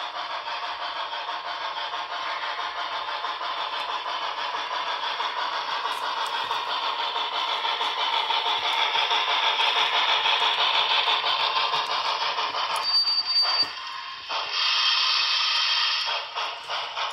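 A Broadway Limited PRR B6sb model steam locomotive in forward motion gives a steady, mid-pitched chuffing and mechanical rumble. It stays fairly even and continuous, then drops briefly and resumes near the end. No talking.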